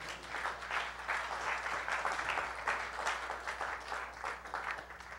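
A church congregation applauds the Lord, with sustained mixed clapping from many hands filling the room at an even level, a faint voice barely present underneath.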